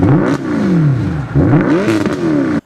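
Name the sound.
Mercedes-Benz SLS AMG 6.2-litre naturally aspirated V8 engine revving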